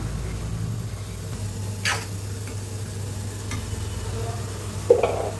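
Tomatoes cooking in a pan for a mixed vegetable sambar give a steady low simmering hiss under faint stirring clicks, with a brief scrape near the middle and a sharper utensil knock close to the end.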